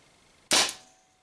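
A single sharp, close crack as a Z-RAM slug is fired from a Spyder MR6 paintball marker into a bolt trap, with a quick decay.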